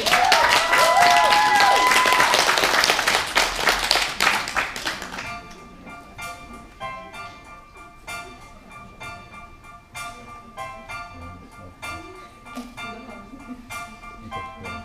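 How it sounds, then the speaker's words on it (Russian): Loud audience applause at a live event fills the opening five seconds with dense clapping, then drops to quieter scattered claps, music and crowd noise. "Давайте хлопаем громко."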